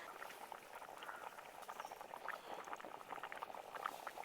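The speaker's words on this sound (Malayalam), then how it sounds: "ഇപ്പം നമ്മുടെ മീൻ കറി 5 മിനിറ്റ് നന്നായിട്ട് തിളച്ച് വന്നിട്ടുണ്ട്" A Kottayam-style fish curry boils in a clay pot, bubbling and popping in a soft, busy patter that stays faint and steady throughout with no voices.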